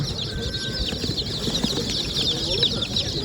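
Roosters and turkeys at an outdoor poultry market in Kırıkkale, with clucking and crowing mixed into a busy background of chatter and bustle, moderately close and continuous.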